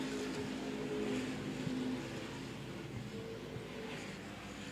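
Street stock race cars battling four-wide at Angola Motorsport Speedway, a steady roar of several engines racing together at moderate distance, continuous throughout.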